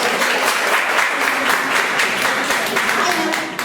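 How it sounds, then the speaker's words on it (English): Loud, continuous applause from a crowd, dense and steady for several seconds before tapering slightly at the end. "Can you have a thunderous round of applause for one"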